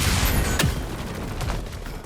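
A bomb detonates in God of War Ragnarök, a sharp, loud blast near the start followed by rumbling debris and lingering crackle against continuous game ambience.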